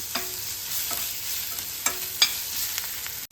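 Ginger garlic paste fries with browned onions in a pan for vegetable pulav, a constant sizzle broken by a few sharp scrapes and clicks from stirring.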